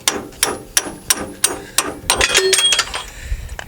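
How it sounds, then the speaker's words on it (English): An old chisel is struck by a hammer to drive a bolt out of a 2017 Ram 1500 4x4 front suspension during a Belltech 2/4 drop kit install, with about eight sharp metallic blows at a steady pace, then a quick flurry of clinking. "Hammer the bolt out"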